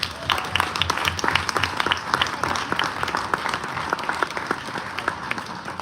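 A cruise ship audience applauds veterans at a tribute, a dense, steady round of clapping from many hands that holds throughout, fairly close and even in loudness.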